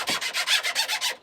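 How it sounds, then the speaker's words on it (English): Rapid back-and-forth rasping of a sanding block on the wood of a 1930s sideboard, about eight even strokes in quick rhythm, close and fairly loud. "I'm going to use this sanding block that's got a very similar shape"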